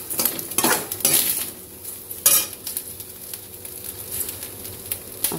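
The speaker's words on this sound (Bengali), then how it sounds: "ভাতটা উলট পালট করে দিই, ভাজা ভাজা ভাত হয়ে যাবে" Cooked rice being stirred and fried in a pan, with irregular metal utensil scrapes and clinks at close range over a soft background sizzle, no voices.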